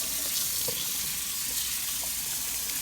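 Tap water running and splashing over a turkey being rinsed at a sink, a steady broadband rush with no voices.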